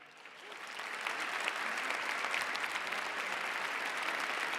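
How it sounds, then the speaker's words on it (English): A crowd gives a standing ovation during a recorded political speech; the applause swells over the first second, then holds steady and fairly distant. "This is the only time that they give him a standing ovation at all, this whole party."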